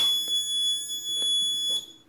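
Electromagnetic door lock sounding its open-door warning: a steady high-pitched electronic tone held throughout with a few brief clicks, cut off near the end as the door is locked.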